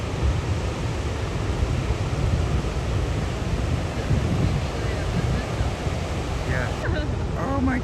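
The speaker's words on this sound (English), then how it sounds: "I was watching the waves" Ocean surf along the Australian coast, a loud, continuous roar of breaking waves mixed with wind buffeting the microphone, with a faint voice briefly audible near the end.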